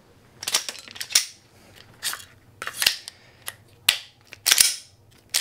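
A Glock 48/43X pistol fitted with a Beretta magazine is dry cycled, giving a series of sharp metallic clacks and slide snaps, close and loud, in uneven bursts with short quiet gaps between them.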